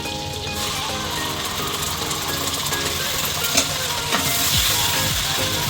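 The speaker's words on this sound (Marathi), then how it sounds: "आता यात टाकणार आहोत आपण अद्रक लसूण पेस्ट" Ginger garlic paste hits hot butter and oil in a pan for dal makhani, giving a continuous, fairly soft sizzle and crackle with a few small spatters, and no talking.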